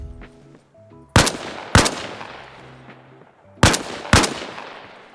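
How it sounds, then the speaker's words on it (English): AK rifle fire in a video game: two pairs of loud, sharp gunshots, each pair close together with a ringing decay, over quiet background game sounds. "Trying to shoot through the door downwards at the fuel tank"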